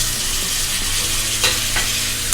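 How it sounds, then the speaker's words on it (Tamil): Chopped tomatoes stirred into sizzling mutton biryani masala in a pan, a steady frying hiss with a couple of brief scraping clinks of the spoon, no talk. "இப்போது தக்காளியை வந்து நல்லா கலக்கி விட்டுட்டு இப்போ இந்த தக்காளியும் வந்து நல்லா வந்து வதங்கணும்"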